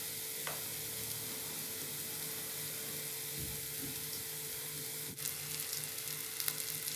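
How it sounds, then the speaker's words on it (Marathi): Stuffed eggplant masala fries in a pan as crushed peanuts are added, a steady soft sizzle with a few faint clinks and stirring touches, no voices. "आता मी शेंगदाण्याचं कूट टाकून घेते."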